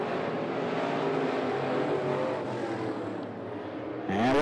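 Sportsman race cars circling an oval at 411 Motor Speedway, a sustained, fairly distant engine roar that holds steady for several seconds before a louder surge as a car sweeps closer at the end.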